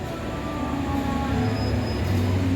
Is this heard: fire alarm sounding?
no